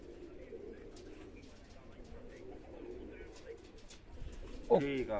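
Pigeons with blue leg bands coo faintly in a loft before being released, low murmuring calls under quiet talk, with a sharper, louder sound near the end.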